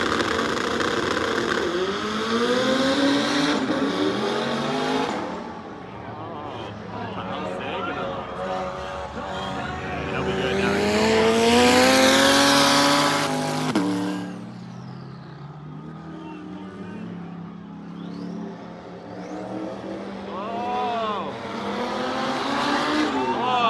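Twin turbo Corvette C8 launching down a drag strip at spectator drags, a loud sustained engine roar with rising revs and gear changes, sweeping close and fading, then another car pulling away, with a crowd audible underneath.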